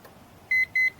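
A Mortal Kombat 2 arcade sound board gives two short, high, pure electronic beeps in quick succession, clear and close against near silence, with no voices.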